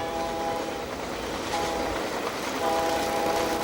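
A passenger train rolls through the Canadian Rockies toward Banff with a loud, continuous rumble of wheels and carriage noise, and a steady tonal hum that fades and returns.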